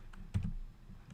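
Data being entered on a computer keyboard gives a few soft, close keystrokes, including one firmer double tap, in an otherwise quiet room.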